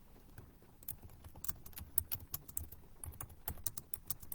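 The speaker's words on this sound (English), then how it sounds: "Let me get my question typed in." Soft, fairly quiet typing on a computer keyboard, entering a comment in bursts of rapid keystrokes with brief pauses and a few louder clacks, with no voices.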